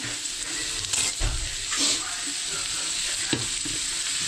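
Franks frying in a pan with onion, garlic and ketchup, a soft steady sizzle broken by a few scraping stirs, close and fairly quiet.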